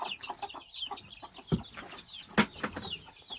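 A hen clucks in short, uneven bursts, fairly close, with two louder sharp clucks standing out and no talking.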